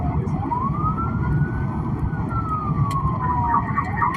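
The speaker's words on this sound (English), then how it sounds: "With sirens blaring and lights flashing, they chased him through busy streets" Police car sirens wailing during a chase through busy streets, one clear rising and falling siren sweep over steady road and engine rumble, fairly close.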